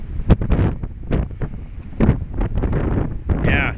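Strong south wind buffeting an outdoor microphone, loud gusty roaring that swells and fades in uneven bursts throughout, with no one talking.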